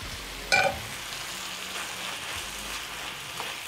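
Noodles frying and being stirred in a hot pan with vegetables, a soft steady sizzle throughout with a brief sharper clatter of stirring early on, close and moderately quiet, no talking.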